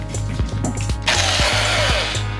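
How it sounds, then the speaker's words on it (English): A power drill whirs in short bursts with clicking, then runs steadily with a high whine, loud and close, drilling screw holes in a wooden guitar pickguard. "drill the holes for the screws"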